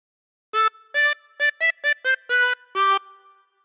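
A chromatic harmonica plays a phrase of We Wish You a Merry Christmas as eight clear, separated notes of varying length, close and clean with no talking.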